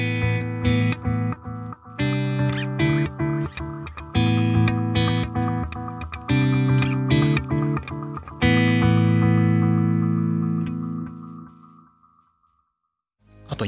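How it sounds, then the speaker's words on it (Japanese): A Meris LVX delay pedal set with flanger and distortion plays a guitar: repeated distorted chords and notes sweep with a flanging shimmer, loud and close, then ring out and decay into silence near the end. "さっき選んだフランジャー、これに加えて歪みがつきました。"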